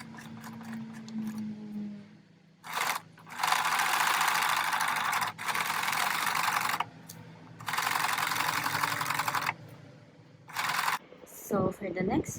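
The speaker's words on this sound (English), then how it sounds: "let's get into sewing" A sewing machine stitching a refashioned men's shirt, running in several steady whirring bursts separated by pauses, close and fairly loud, with brief handling sounds at the end.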